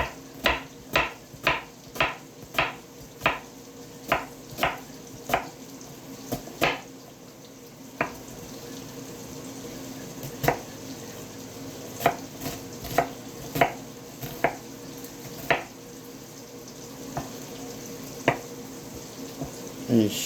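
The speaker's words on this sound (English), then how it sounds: "we're going to cut up this onion" A knife chops an onion on a cutting board in a home kitchen: about a dozen evenly spaced, close, crisp strikes, then scattered slower cuts, with some speech in the background.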